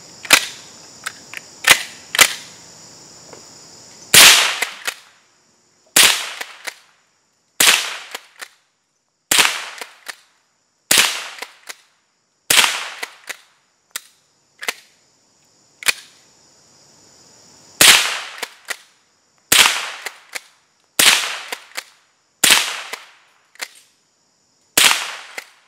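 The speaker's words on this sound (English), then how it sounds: "I'm going to shoot this too" A .22 gallery gun, a Winchester clone, fires more than a dozen sharp, crisp shots one at a time at irregular intervals, loud and close, with faint mechanical clicks and no talk.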